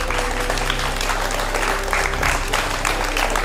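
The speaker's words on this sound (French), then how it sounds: "Et vous pouvez l'applaudir très fort." Applause for a Krav Maga instructor at a women's self-defense initiation course: a full crowd claps loudly and continuously over a low background hum.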